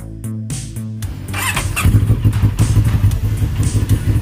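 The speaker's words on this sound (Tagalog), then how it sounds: "Dahil 400cc ang motor na to." A CFMOTO NK400 400cc motorcycle engine starts with a few short blips, then revs repeatedly in quick rising and falling bursts, loud and close.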